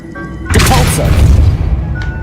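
A Depulso spell fires in Hogwarts Legacy, producing a sudden booming burst with a rumbling, crashing tail that lingers over game ambience.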